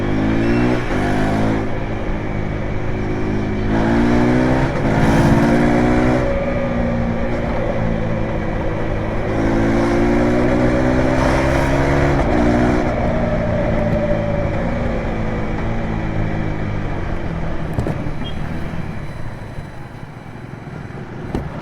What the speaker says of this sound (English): Really liking the exhaust sound, to be honest. It's very bassy compared to the older 390